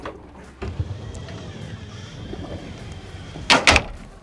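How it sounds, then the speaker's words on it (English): A heavy sliding door on an Axopar 45 boat slides along its track with a low rumble, ending in a couple of sharp knocks as it stops. "we've got not just one sliding door"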